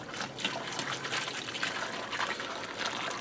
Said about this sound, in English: I'm just going to give this a good whisk real quick to help break up the lumps.